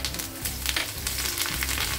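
Curry leaves sizzle in hot oil for a kadhi tempering, a steady close crackling fry with bursts of spitting and a faint stirring scrape.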